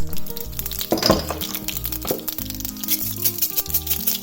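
Mustard and cumin seeds splutter in hot oil for a South Indian tempering, crackling and popping in sharp irregular bursts over a steady sizzle, close and with no talk.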